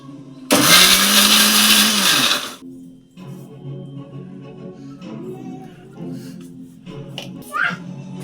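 A mixer grinder whirs loudly for about two seconds, blending tempered tomatoes with peanut powder for tomato chutney, then winds down and stops; someone talks quietly afterward over faint kitchen clinks.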